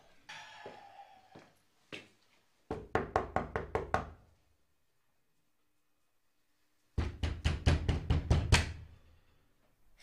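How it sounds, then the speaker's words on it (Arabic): Two bursts of rapid knocking on a door at night, loud and close, each a quick run of about six sharp raps, separated by a few seconds of silence. "ليش عم تدق الباب؟ شو بدك بأنصاف الليالي؟"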